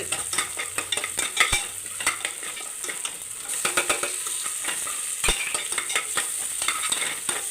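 Tomato stir-fried with crushed ginger, garlic and chilli in a pan for a pressure cooker chicken biryani: a steady oily sizzle with a spoon repeatedly scraping and clinking against the pan, including a couple of sharper knocks.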